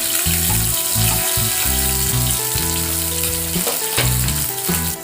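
Cut potatoes hit a hot pan with mustard seeds and cumin, giving a loud, close, continuous sizzle with bubbling crackle and no talking.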